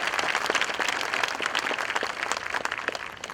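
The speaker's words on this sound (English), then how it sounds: "How about a round of applause," Applause from the audience at a 2022 high school graduation ceremony in Wellsville, a dense, steady wash of many hands clapping that continues loudly and evenly throughout, with no voices on top.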